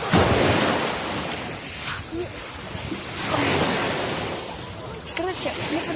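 Sea waves wash onto a beach in rolling surges, loud and close with wind buffeting the microphone, while a person talks intermittently over the surf.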